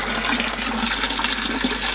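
Water runs steadily into an aquaponics grow bed in a continuous, even gush, close and alone with no voices.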